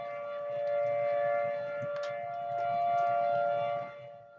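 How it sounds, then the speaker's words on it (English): A tornado warning siren wails in the distance, a steady tone swelling and fading as it rotates, with no voices over it. "There goes the sirens."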